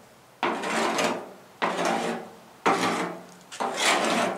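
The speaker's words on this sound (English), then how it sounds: "15 minutes later, it scrapes off like this" Paint softened by Rust-Oleum aircraft remover being scraped off an automotive panel: four long, loud rasping scrape strokes, each starting abruptly and trailing off, with short pauses between, close up and no talk.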